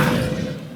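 A Descendo spell impact in Hogwarts Legacy, a single heavy low thud with a short rumbling tail that fades quickly within a second.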